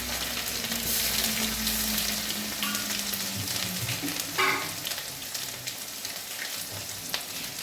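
Garlic and ginger paste sizzles and fries in hot oil for a mackerel pickle, a steady close crackling hiss with brief stirring scrapes partway through and no talking.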